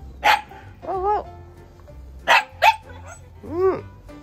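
A Shiba Inu dog at a tropical botanical park gives several sharp barks and high yips, close and loud, in short bursts with pauses between them, and a person's voice can be heard briefly nearby.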